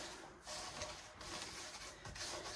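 Homemade stained glass glazing rubbed by hand into a surface, giving a steady close scratchy rasping with short pauses and faint handling noises, no talking.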